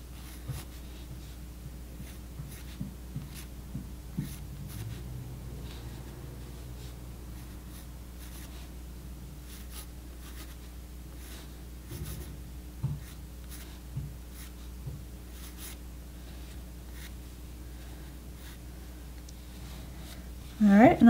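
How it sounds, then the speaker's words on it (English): A pencil writes a word on paper, giving soft, close scratches and light taps that come and go over a quiet room. A voice is faintly present. "I'm going to write out the word in pencil first."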